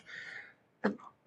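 A single sneeze during a jazz radio interview, sharp and close, preceded by a soft vocal sound and followed by a brief breathy trailing noise.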